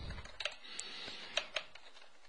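Light typing on a computer keyboard while editing code in an X++ editor, a few sparse, soft key clicks spread unevenly over a quiet background.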